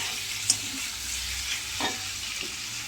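Chicken sizzles steadily in a pan with occasional scraping stirs, a constant close hiss with a soft clink near the start.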